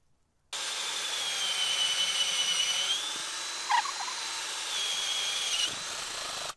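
A powered auger bores into dense hardwood at a rainy camp, giving a steady close whining drone for about six seconds with a brief bump midway.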